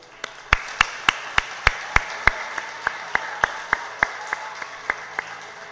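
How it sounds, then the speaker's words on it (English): Steady, evenly spaced claps ring out at a graduation ceremony, sounding like a slow rhythmic clap from a small group rather than a full ovation, gradually getting a little softer. "Let us give ourselves a big round of applause"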